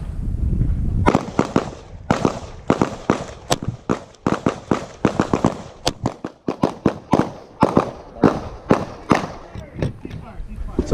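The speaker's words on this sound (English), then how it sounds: "re-engaging your sights, re-engaging the pistol, and firing a second round" Pistol shots ring out at a shooting range in a long, dense series of sharp, loud cracks, some spaced apart and others in quick irregular bursts, each with a short decay.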